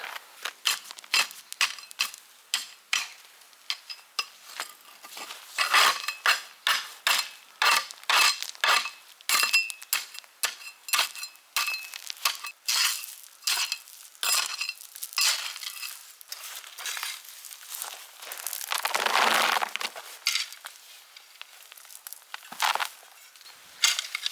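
Digging out grass and spreading gravel around garden stone steps, a long run of crunchy scraping and gritty rattles in irregular bursts, close by, with a longer shuffling rush near the end and no talk.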